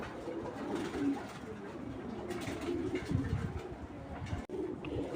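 Fancy pigeons of mixed breeds in a loft coo continuously, with soft, low, rolling coos close by over faint background noise.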